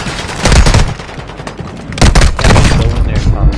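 Shotgun and other gunfire in a combat video game, loud dense blasts and rattling bursts in two heavy clusters with booming impacts, filling the whole stretch.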